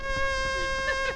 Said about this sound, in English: Careful, guys. Mosquitoes here.